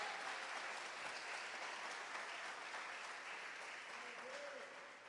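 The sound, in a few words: congregation applause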